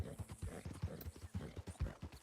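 Horse hooves clip-clopping at a steady walking pace in the video game Red Dead Redemption 2, an even, repeated thudding rhythm heard up close and fairly quiet.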